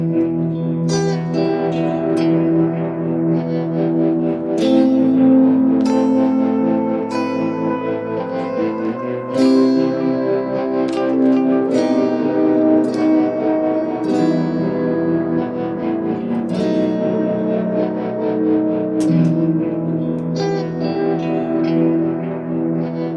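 An electric guitar riff, recorded into a looper pedal, rings out with heavy reverb and echo, plucked notes and chords repeating in a steady loud pattern with no talking.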